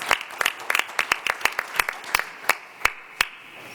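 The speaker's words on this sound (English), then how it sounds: "Let's give them a huge round of applause" Scattered applause from a small group at a school board meeting, with distinct individual claps in an uneven rhythm that thins out toward the end.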